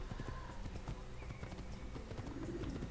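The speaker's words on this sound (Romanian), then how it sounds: "Mă, ce viteză are calul." A horse gallops at speed in the Assassin's Creed video game, with steady rapid hoofbeats and an occasional whinny over a busy game soundscape.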